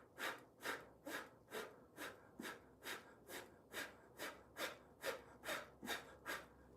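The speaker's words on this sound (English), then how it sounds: "We're going to suck it in, okay? And we're going to go short breaths like" Short, rapid breaths pushed out through the nose with the stomach held in, a steady rhythmic series of about fourteen quick sniffing exhalations, close and fairly quiet.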